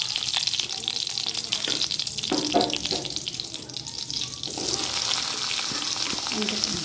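Mustard seeds frying in hot oil for a mango curry, a steady close sizzle and crackle running throughout, louder and brighter in the final seconds.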